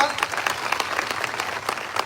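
A crowd of students at a protest claps loudly and rapidly in dense, uneven bursts throughout.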